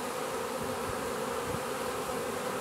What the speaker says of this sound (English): wait for the flights to settle down and the cloud of bees to diminish